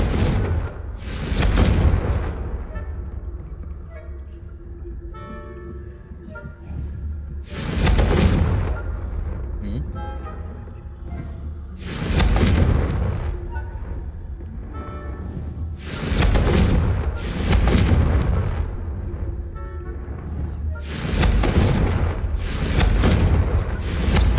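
Confringo spell blasts explode in Hogwarts Legacy, a string of about seven loud, booming detonations spaced a few seconds apart, each with a whooshing rush and a rumbling tail, and no voices.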